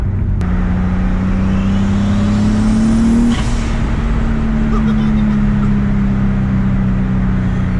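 A loud rebuilt forged turbo M50 engine in an E30 drones steadily while driving, its pitch rising and then holding, with constant road and cabin noise around it.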